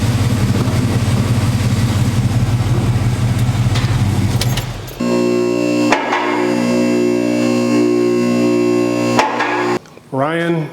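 A vehicle engine in a shop, loud and close, running at a steady rumble, then changing to a lower, even drone as the vehicle is eased forward, with a brief clank near the end.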